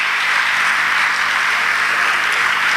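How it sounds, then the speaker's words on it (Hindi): Sustained audience applause greets a bishop coming onto the stage at a Christmas church program, a dense steady wash of many hands clapping at close range with no voices. "आप सबकी भरपूर तालियों में बिशप जी"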